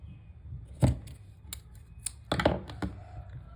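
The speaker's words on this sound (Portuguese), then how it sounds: "Vamos cortar aqui o fio." Scissors snip through crochet yarn at the end of a shoulder bag, a few short sharp cuts and clicks close by, with quiet handling between them and no talking.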